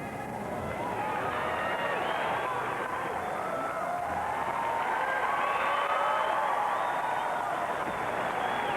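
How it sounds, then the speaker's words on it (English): A large arena crowd cheers and roars steadily at a men's gymnastics world championship in Anaheim, a dense, continuous wash of voices with a commentator talking over it. "And listen to the crowd."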